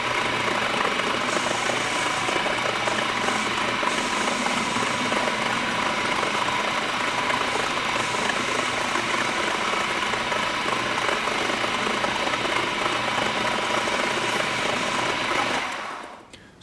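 A CNC lathe cuts a camera case front part to length, giving a loud, continuous mechanical whir with a steady droning tone that runs without a break and then winds down at the end.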